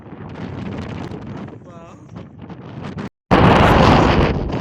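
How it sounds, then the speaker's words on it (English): Strong wind buffets the microphone on Brighton beach, a loud, broadband roar that drops out briefly and then surges back even harder, with a voice heard faintly under the gusts. "No one would have experienced this windy weather."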